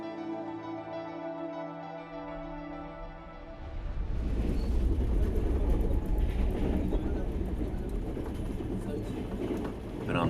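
Inside a moving train running hours late on a long journey, a loud dense rumble and clatter of wheels and carriage builds after a quieter tonal stretch, continuing steadily throughout.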